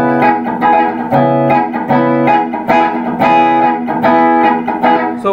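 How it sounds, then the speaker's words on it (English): Rhythmic electric guitar strumming with muted down-up strokes, a steady pattern of chordal hits alternating with percussive muted scratches, loud and close with an effected, slightly distorted tone. "It's kind of the same movement for the whole strumming"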